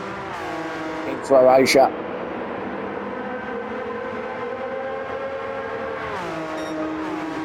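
Porsche race cars in a racing video game on the Dragon Trail Seaside circuit, a steady engine drone with shifting pitch and a brief louder pass, under continuous race commentary.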